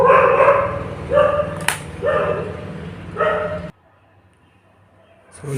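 Dogs bark loudly and close by in a run of repeated, rough barks, which then stop abruptly into near silence.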